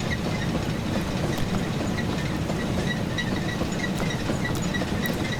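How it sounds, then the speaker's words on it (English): A Saxon IV-K 0-4-4-0T steam locomotive coasts in Train Simulator Classic, giving a steady rolling rumble with faint rhythmic clicks of wheels over rail joints. "Pretty decent coasting sound."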